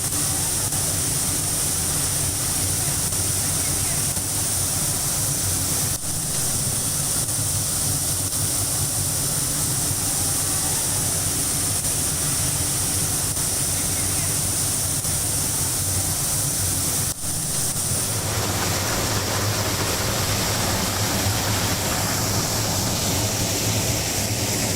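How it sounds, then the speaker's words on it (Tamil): Water gushing from a burst drinking water pipe onto a road in Anuppanadi, Madurai: a continuous, loud rushing roar that stays steady throughout, with a faint high whine above and a shift in texture late on. "மதுரை அனுப்பானாடி பகுதியில் குடிநீர் குழாய் உடைந்து பல ஆயிரம் லிட்டர் தண்ணீர் சாலையில் வீணாக சென்று கொண்டிருக்கிறது"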